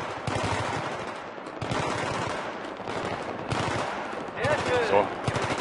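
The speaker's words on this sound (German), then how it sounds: "Oh, ich werd beschossen" Bursts of automatic gunfire crackle in Battlefield 3 as rapid repeated shots come in several clusters, close and loud, with someone talking under the firing.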